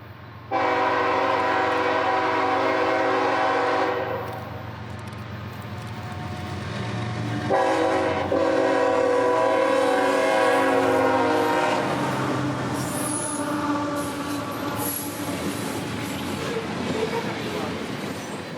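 CSX freight train G475 passes through a tree tunnel, blasting its horn in long loud chords twice amid heavy rumble and wheel clatter that fades toward the end.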